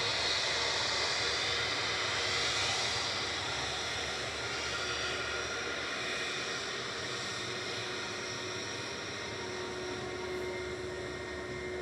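A British Airways Airbus A320 shuttle jet at Manchester Airport gives a steady broadband engine rush with a faint whine, loudest at first and easing slightly as it continues.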